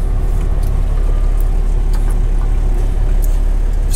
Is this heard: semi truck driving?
yes